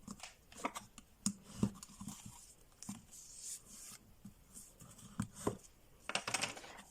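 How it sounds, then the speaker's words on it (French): A three-fold paper card has its creases scored and pressed, heard as close, quiet crisp rustles, taps and short scraping strokes in an irregular series. "je vais pouvoir marquer les plis"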